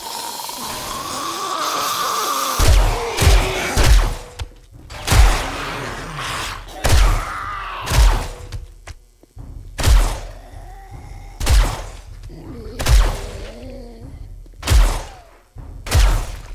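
Loud gunshots in the video game 7 Days to Die fire one after another at a steady pace, about a dozen heavy blasts with short pauses between them.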